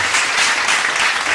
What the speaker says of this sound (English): And a little bit of clapping hands right there for